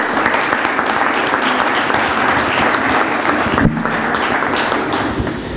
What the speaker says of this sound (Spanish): Le damos por favor un aplauso para darle la bienvenida.